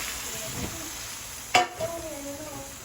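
Garlic, onion and papaya sizzle softly in a pan, with a sharp clink of a utensil partway through and a few light stirring sounds.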